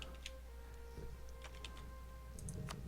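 Scattered keystrokes on a computer keyboard while searching a map in Europa Universalis 4, a few quiet taps and clicks over a low steady hum.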